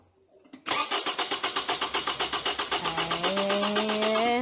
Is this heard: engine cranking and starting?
yes